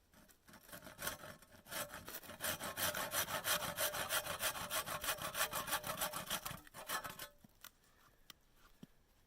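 A hand saw trims off a protruding wooden dowel on a hand-cut plank bushcraft table outdoors in the mountains, with rapid rhythmic close-up sawing strokes for several seconds before stopping.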